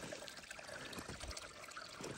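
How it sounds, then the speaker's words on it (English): Water from a cattle waterer overflowing and spilling into a ditch, a steady close trickle and splash running continuously without pause. "it can overflow into the ditch and just go down the ditch"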